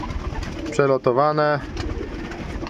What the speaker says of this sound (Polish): To są gołębie.